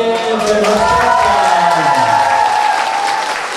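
Loud, steady applause fills a hall at a medical university graduation ceremony in Ivano-Frankivsk, a dense crowd clapping continuously without pause, with music tones ringing underneath.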